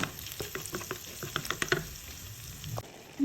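Garlic frying in a pan for Filipino pancit, a steady soft sizzle with light stirring clicks and scrapes, close and moderately quiet.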